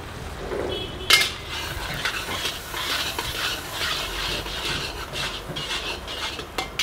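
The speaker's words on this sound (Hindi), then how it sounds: "इस मसाले को हम अच्छी तरह से भूनेंगे पहले" Cumin, whole chilies, asafoetida, chopped ginger, garlic and onion frying in oil for a dhaba-style gobhi aloo tadka, a steady soft sizzle with a spoon scraping and stirring the pan, close and moderate with no talk.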